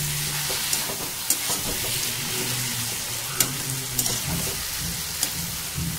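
Hilsa fish and bottle gourd sizzling in oil in a pan as they are stirred, Bengali style, a steady close crackle with occasional sharp clicks of the spoon against the pan, no voices.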